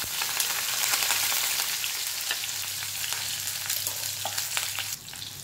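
Onion, green chili and curry leaves crackle and sizzle steadily in hot tempering oil for tomato upma, a loud continuous frying hiss with occasional stirring clinks close by.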